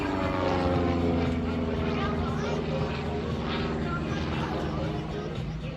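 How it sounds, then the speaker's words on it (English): A restored Taylorcraft propeller airplane drones through an aerobatic routine at the Lake Cumberland Airshow, its steady harmonic engine hum filling the air while an announcer talks over it. "So let me tell you a little bit more about the airplane he's flying."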